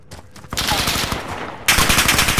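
Rapid close automatic gunfire in Call of Duty: Modern Warfare, sustained bursts of loud rattling shots with a sharper, louder burst near the end.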